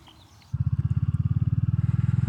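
A Royal Enfield Classic 350 single-cylinder motorcycle on a test ride starts up and settles into a loud, steady, pulsing thump close by.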